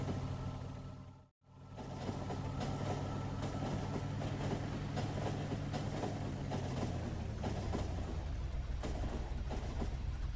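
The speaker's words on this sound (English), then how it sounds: "Trains have a bit of a stopping distance to them." Train in the Factorio video game running along rails, a steady loud rumble with rolling wheel noise throughout, cut by a brief dropout near the start and shifting lower toward the end; no talking.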